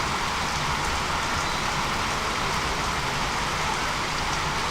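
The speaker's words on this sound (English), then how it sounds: "the rain is absolutely pouring down at this moment" Heavy rain pouring down during an outdoor rugby match, a dense, steady hiss of downpour that fills the whole stretch evenly, loud and continuous, with no voices over it.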